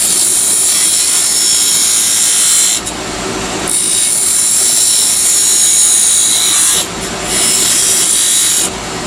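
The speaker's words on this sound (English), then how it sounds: "Coming in with a skew chisel, just like everything else." A skew chisel shears wood on a spinning lathe while shaping the base of a chess king, giving a loud, steady rasping hiss that drops briefly twice as the tool lifts off and returns.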